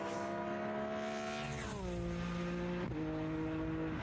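Vintage race cars pass at Watkins Glen. A steady engine note sweeps downward as one car goes by, and a second drop in pitch follows near the end, heard at a moderate distance.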